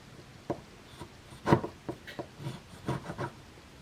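A Spyderco Delica 4 knife slices through material in a series of short, close scraping strokes, several quick rubs following one another with quiet gaps between.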